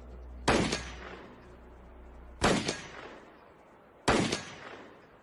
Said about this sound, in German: Ich schieße ein paar Mal und dann sehen wir,